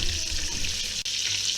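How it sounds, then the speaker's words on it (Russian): Steady, close sizzling and crackling of minced meat patties frying in a hot pan, continuous hiss with no voices. "переворачиваем, жарим вторую сторону."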